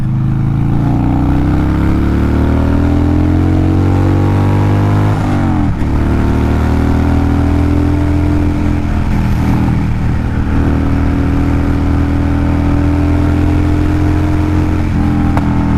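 A 2014 Harley-Davidson FXDL Dyna Low Rider motorcycle engine revving and pulling through the gears while riding, its loud rumbling note climbing in pitch, breaking at a shift and climbing again, heard close and continuous.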